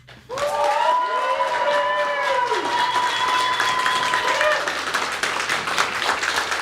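Sustained crowd applause for barista Artur Kosteniuk at the World Barista Championship 2025 final, loud and steady throughout, with a tonal whistle or voice-like line riding over the clapping near the start.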